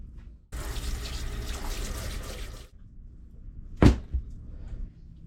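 Tap water runs steadily over Spanish mackerel fillets in a sink for about two seconds, stops, then a brief splash and a couple of low knocks follow against quiet background.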